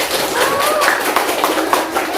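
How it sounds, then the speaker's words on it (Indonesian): Children clapping together in a primary school classroom, a quick, dense patter of small hands, loud and close, lasting only a couple of seconds with faint voices mixed in. "kita beri tepuk tangan untuk Said."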